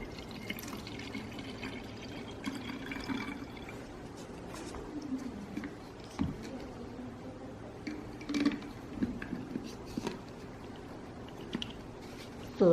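A garlic paste and baking soda solution pours into a cymbidium orchid pot, with a soft, steady liquid trickle and scattered small drips and taps close by, fairly quiet throughout.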